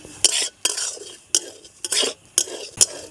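Semolina being fried in a pan, with about six brisk scraping stirs of a spoon against the metal, close and distinct, separated by short near-silent gaps and only a faint sizzle.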